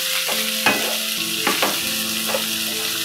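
Vegetables including cabbage for poha manchurian sautéing in a pan over low flame, with steady sizzling and a few louder stirring scrapes, close and without talk.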